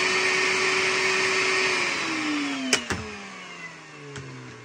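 A Makita 36V cordless backpack vacuum hums steadily at its slower speed, its pitch dipping partway through, with a few sharp clicks and knocks over the drone.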